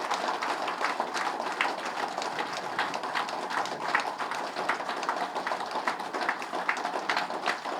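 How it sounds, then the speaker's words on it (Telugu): A large audience clapping loudly and steadily, a dense crackle of many hands that continues without a break, with no voices over it. "సో ఇప్పుడు మీరు గట్టిగా చప్పట్లు కొడితే ఎవరైనా అడిగితే నవ్వారా?"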